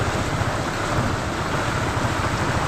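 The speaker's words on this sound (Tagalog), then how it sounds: "Grabe itong ulan na ito." Heavy, sudden downpour drumming steadily on a moving vehicle, a dense, loud, continuous roar of rain filling the cabin with no voices.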